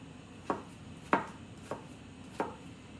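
Sharp kitchen knife chopping through vegetables on a board while making a pork, cabbage and potato dinner, four distinct crisp cuts at an even pace, close and fairly quiet, with no talking.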